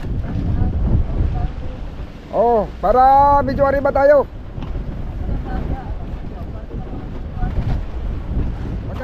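Wind buffets the microphone over the low wash of moderate sea waves around a fishing boat, while a person speaks briefly in the middle.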